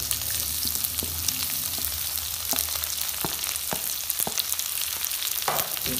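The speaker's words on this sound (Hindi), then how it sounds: "इसके बाद जो हमने बारीक प्याज कटा हुआ था ये डाल लेते हैं।" Finely chopped onions fry in a pan for sarson ka saag, a constant bright sizzle punctuated by scattered crackles and occasional stirring clinks, close and steady, with no voices.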